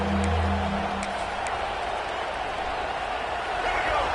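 A stadium crowd roars steadily in the NCAA 26 college football video game as the home fans make noise for a red zone stand. Brief voices are heard at the start under the even, distant wash of noise.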